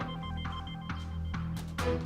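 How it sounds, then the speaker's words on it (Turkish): A telephone rings with a repeating electronic melodic tone, regular pulses about every half second, moderately quiet and heard alone. "telefon çalıyor."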